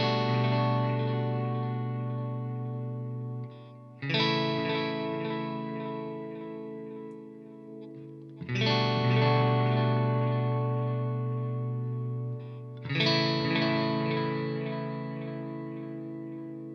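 Electric guitar chords through a Strymon EC-1 tape echo delay pedal with a +6 dB boost, four long strummed chords ringing out with warm, saturated repeats and sustained tails, no talk.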